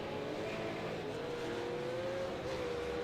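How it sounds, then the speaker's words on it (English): A V8 Supercar at Road America racing with its engine apparently cut out, coasting as a steady, fairly loud motor drone with a slowly sliding pitch carries on throughout. "because it sounds like his engine's cut out"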